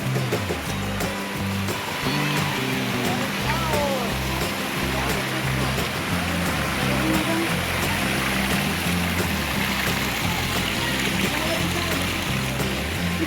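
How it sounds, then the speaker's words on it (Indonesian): Batu Mansuru waterfall in Kabupaten Goa gives a continuous broad rush of falling water, steady and close, with people talking over it throughout. "Ini di Kabupaten Goa, air terjun Batu Mansuru."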